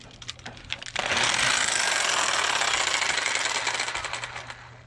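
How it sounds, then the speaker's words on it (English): Jigsaw cutting a coped joint in wood trim during a carport-to-bedroom conversion, a few short buzzing starts, then a sustained close, loud rasping cut lasting several seconds. "I use a jigsaw to do my coping."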